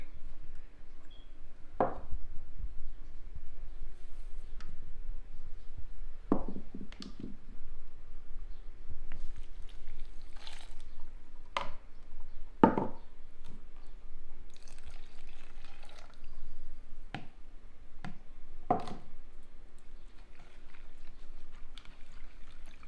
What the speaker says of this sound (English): Okay, now that we got all the ingredients in here, we're gonna mix them all together.